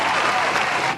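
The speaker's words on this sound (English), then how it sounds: "let's give her a round of applause for all the ladies" A live podcast audience clapping for the women present, a brief, loud, dense burst of hands applauding close by that tapers off at the end.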